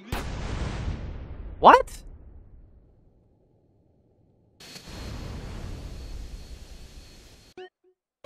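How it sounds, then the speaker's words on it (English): Gunfire and a loud explosive blast in GTA San Andreas Definitive Edition, a thick rumbling burst that fades out, followed later by a second stretch of booming game noise, with someone speaking briefly over it. "What did I even shoot that was explosive?"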